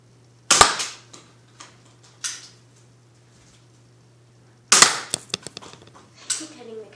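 A Nerf gun firing foam darts at a Pepsi bottle: two sharp close pops about four seconds apart, each followed by smaller clattering knocks and light ticks.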